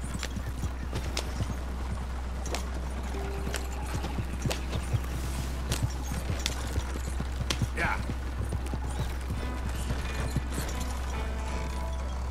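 Horse hooves clip-clop steadily in Red Dead Redemption 2 over a constant low rumble, with scattered game sounds around them and a brief spoken word.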